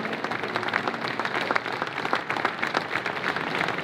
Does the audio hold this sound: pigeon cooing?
no